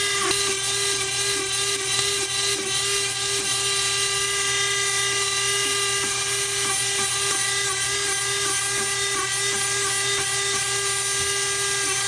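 A rotary grinder shapes the corner of a wooden walking stick, giving a continuous high-pitched whine that stays loud and steady throughout, with no talking.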